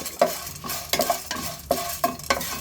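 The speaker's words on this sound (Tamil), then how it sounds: "எல்லாமே நல்லா ட்ரை ரோஸ்ட் பண்ணிக்கலாம் சவக்க வறுத்துக்கலாம் கருவேப்பிலை ஒரு கையளவு" Spices and a handful of curry leaves are dry-roasted in a pan, a spatula scraping and stirring in regular strokes roughly twice a second over a faint dry crackle, close by with no voices.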